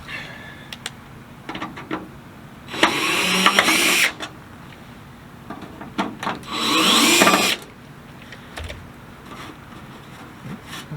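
A power drill whirs in two bursts of a second or so each, backing screws out of a rain gutter downspout outdoors, with light handling clicks between them.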